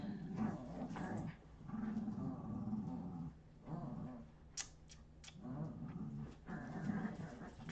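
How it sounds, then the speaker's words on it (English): Pet dogs growling and playfully scuffling indoors, with low rumbling growls in bursts, a few sharp yips and whimpers between them, close by and moderately quiet. "My silly dogs are just"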